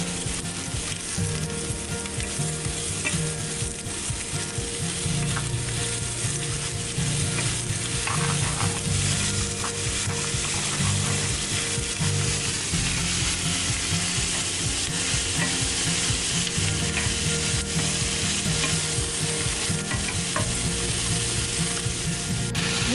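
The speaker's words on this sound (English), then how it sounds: "To fry the onion until it becomes transparent." Chopped onion fries in a pan until transparent, a dense continuous sizzle with steady stirring and ratcheting scrapes of a utensil, close and even throughout with no talking.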